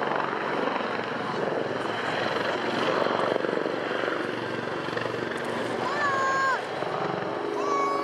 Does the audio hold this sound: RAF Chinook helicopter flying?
yes